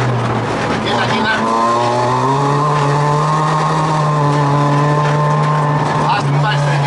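Toyota Starlet EP91 engine revving and accelerating on a dirt road, a loud steady drone rising in pitch through the gears from inside the car, with people talking over it.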